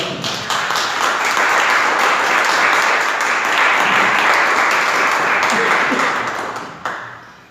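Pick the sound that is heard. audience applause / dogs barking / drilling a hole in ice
audience applause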